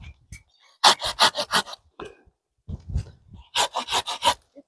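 Pruning shears or a small saw cut through azalea branches in a series of quick rasping strokes, two clustered bursts separated by quieter handling noises.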